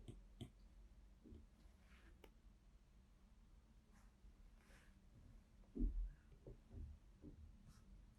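Pencil drawing a line on paper while sketching a one-point perspective room, faint soft scratching strokes with a few light taps and handling noises, quiet and close with no talk.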